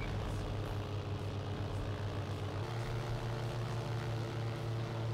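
A racer's jet boosters roaring in a mountain video game race, a continuous steady engine drone with a low hum that rises in pitch midway, no talk.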